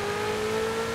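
Sustained turbocharged engine drone of a 1400hp Ferrari J50 in the racing video game Forza Horizon 5, a steady loud tone held throughout with no break.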